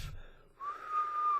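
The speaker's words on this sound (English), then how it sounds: "Oh, I can whistle." A person whistles briefly, a short faint breath followed by a clear sustained whistle tone that holds for under a second at close range.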